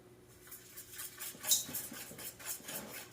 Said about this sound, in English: Now whisk all that together.